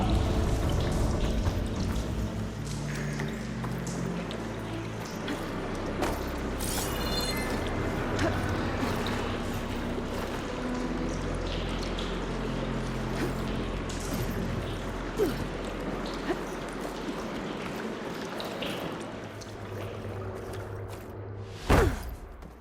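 Water flows after a valve is opened in the game Horizon Forbidden West, a continuous rushing pour under layered game ambience and low rumbles, with a sharp thump near the end.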